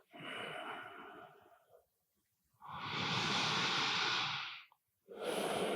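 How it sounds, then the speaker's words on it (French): Deep, slow breaths during a yoga slow flow: a long exhale, a pause, then a full, loud inhale and the start of another breath, all close and unaccompanied by speech. "Dernière respiration."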